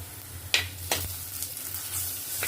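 Turmeric powder is stirred into chilli, garlic and ginger frying in oil for a fish curry, a soft, even sizzle broken by a couple of distinct spoon scrapes against the pan, close by and without talk.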